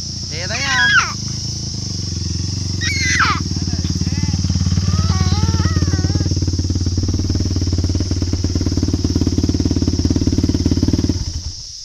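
A Yamaha WR426F dirt bike approaches and rides past on hilly ground, its engine swelling to a loud, steady buzzing drone that holds before fading away, with people talking briefly at the start.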